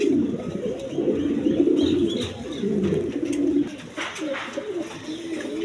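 Pigeons for sale coo in low, rolling calls that overlap continuously, fairly close, with faint background sounds and no clear talk.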